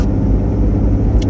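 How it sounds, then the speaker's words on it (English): Inside the cabin of a Jeep Wrangler on beefy tires with an uninsulated roof, a constant low road-noise rumble from the tires fills a brief stretch of driving. "these are pretty beefy tires, so you get a lot of road noise. You just hear the tires a lot."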